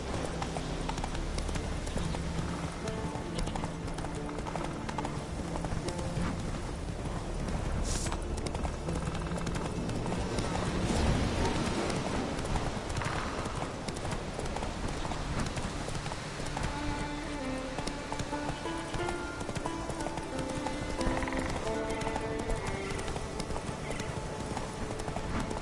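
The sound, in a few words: horse Roach running hooves, from video game The Witcher 3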